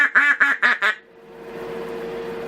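Four quick raspy quacks blown on a custom duck call, evenly spaced and close, then cut off into faint steady room hum.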